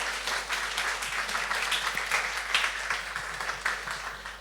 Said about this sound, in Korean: 우리 목사님 나오실 때 우리 축복의 박수로 맞이하도록 하겠습니다